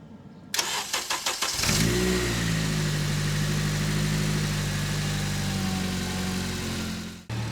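Honda Civic FN2 Type R cranking with a rapid whirring starter for about a second before the engine catches, flares up loudly, then settles into a steady close idle.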